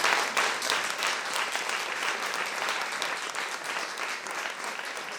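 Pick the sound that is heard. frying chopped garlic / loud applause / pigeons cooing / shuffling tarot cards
loud applause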